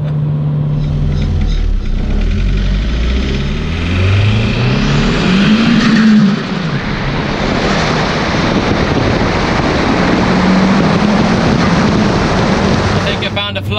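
A turbocharged Audi TT engine of about 400 horsepower pulls hard in fourth gear, its pitch climbing steadily, then climbs again after a brief dip, with heavy wind rush over the microphone.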